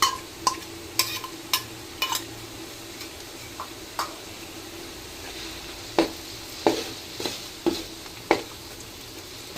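Garlic-chili paste added to sautéed onions in a pan for street-style pav bhaji, giving soft sizzling with repeated scraping stir clicks at an irregular rhythm, close and fairly quiet.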